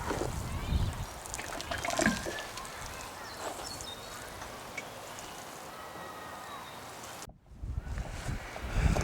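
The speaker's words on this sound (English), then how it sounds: "This is a 14 litre watering can." Water pours from a 14 litre watering can onto vegetable beds, a soft continuous patter and trickle that pauses briefly before resuming, fairly quiet throughout.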